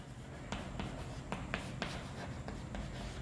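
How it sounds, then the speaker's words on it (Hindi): Chalk or marker taps and strokes on a classroom board during a science lesson, a series of light scratchy ticks over a steady hiss of room noise. "तो मैं यहां पे लिखता हूं"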